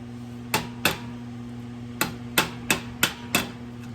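A cheap metal hammer strikes sheet metal in a small fabrication job: seven crisp, ringing blows come in two loose groups over a steady low hum, close and clear with no talking.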